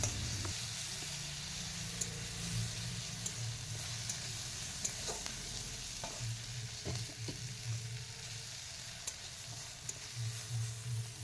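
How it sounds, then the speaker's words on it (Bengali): Onion and green chilli sizzle in a pan while being stirred, a moderate, continuous frying crackle broken by occasional utensil scrapes and taps, with no one speaking. "পেঁয়াজ ও কাঁচা লঙ্কা 1 থেকে 2 মিনিট হালকা নেড়ে চেড়ে ভেজে নিতে হবে"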